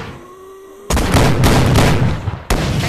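Loud, close gunshots from a pistol blast out in a zombie survival video game, a sharp onset followed by a sustained rumbling burst, then a second abrupt shot near the end.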